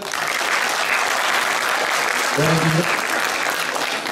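Stand-up comedy audience applauding in a hall, a dense, steady wash of clapping that holds evenly throughout with a brief voice rising through it midway.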